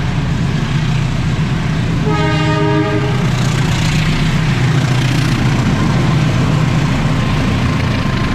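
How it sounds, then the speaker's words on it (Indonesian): A local train in Indonesia rumbles past steadily with a low engine drone, and a horn sounds briefly partway through amid continuous rail noise. "Kereta lokal."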